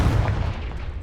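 The Confringo blasting spell is cast in Hogwarts Legacy as a single loud, booming burst with a heavy low rumble that fades over about a second. No voices are heard.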